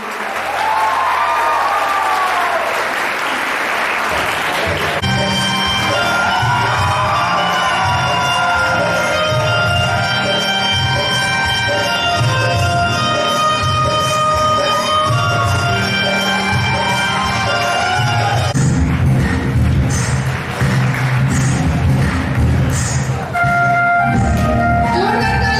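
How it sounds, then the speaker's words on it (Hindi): Sustained applause from a large audience at an annual school coaching-class function and award ceremony, a steady dense clatter of clapping running loud throughout with a brief swell near the end and faint voices mixed in. "तालियां बजाने रहिए आप लोग"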